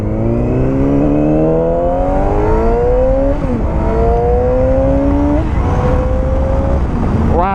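Yamaha R6 600cc sport motorcycle accelerating hard through its gears toward 9,000 RPM, a loud, steady engine roar with rising pitch that drops briefly at each shift before climbing again.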